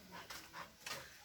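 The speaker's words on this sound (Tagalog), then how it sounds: "Ayan, may malaking aso na dumating." A big dog arriving on a beach, giving soft panting and whimpering sounds in short bursts, faint and close, with no talking.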